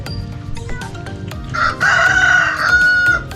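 A rooster crows loudly and close by in one drawn-out call, with scattered clucks and outdoor clatter around it.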